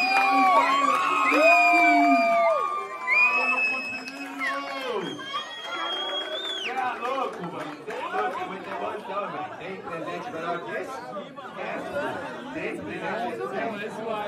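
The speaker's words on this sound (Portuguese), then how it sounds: "Salve de palmas pro Jorge." A crowd at a rap battle event in Londrina cheers, whoops and chatters loudly, with shouts and excited voices overlapping; whistles or whoops rise at the start before a busy mix of crowd noise continues.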